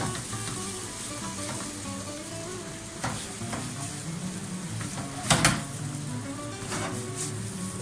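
Food sizzles and fries steadily in a pan on a kitchen stove, with a continuous close crackle and a few brief clatters of utensils or cookware.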